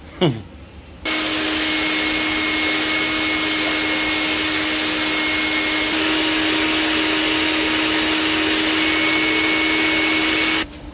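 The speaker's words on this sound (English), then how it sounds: "I think we'll start by vacuuming all this garbage off of it so I can actually find the bolts." A vacuum cleaner runs steadily and loud close by, sucking debris off a 1964 Ford 390 FE V8 engine during a teardown, with a sharp start at the beginning and a cut-off at the end.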